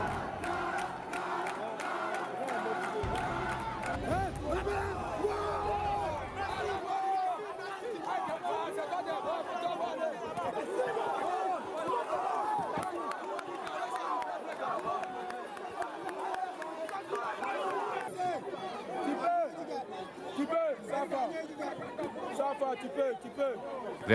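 A crowd at a boxing ring keeps up a steady roar of chatter and shouts, with rising cheers and calls running without a break from start to finish.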